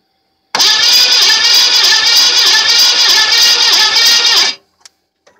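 A 1993 Chevy Lumina's 3.1L engine cranks steadily on the starter for about four seconds during a compression test, a loud, even, rapid whirring churn that stops abruptly, leaving near silence.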